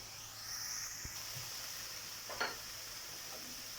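Onion frying in a pan, a soft sizzle with a few light clinks and a brief stirring scrape, faint and close by.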